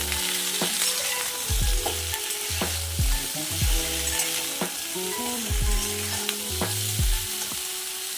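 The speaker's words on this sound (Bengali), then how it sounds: "দিয়ে আবার একটু নাড়বো।" Vegetables sizzle and fry in a pan over raised heat while a spoon stirs them, with repeated scraping strokes and clinks against the metal in an uneven rhythm over a constant crackle.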